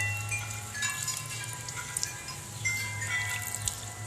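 Water poured into a plant pot of soil, a soft trickling and dripping with small irregular splashes over a low hum, fairly quiet and close, with no talking.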